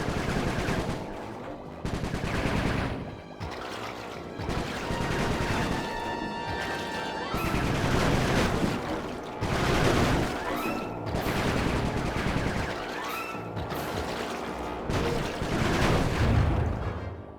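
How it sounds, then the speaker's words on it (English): Gunfire in the video game Sly 3: Honour Among Thieves, with dense, sustained volleys of rapid shots and loud bursts that run almost continuously, broken by short gaps. "Nice shooting, Bentley."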